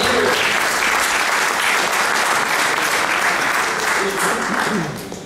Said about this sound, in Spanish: Un fuerte aplauso para este caballero.